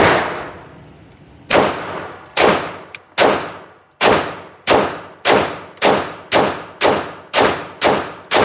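A Sig MK25 pistol fires at a target 7 yards away: about a dozen sharp, ringing shots, loud and close, each one decaying quickly, coming faster and faster after a pause at the start.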